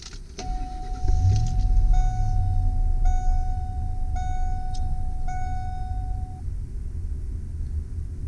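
A 2002 Ford E150 conversion van engine cranks and catches, then settles into a steady low idle while a series of electronic warning chimes repeats close by.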